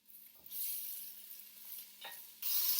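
Mushrooms and onions sizzle steadily in a hot pan as they are stirred, a continuous frying hiss with a brief scrape partway through and a louder burst of sizzle near the end.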